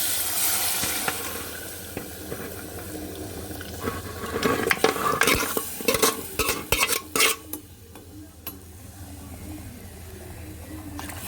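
A utensil stirs and scrapes through mutton paya with goat legs in a pot, with clattering taps and a faint simmer underneath, close and steady.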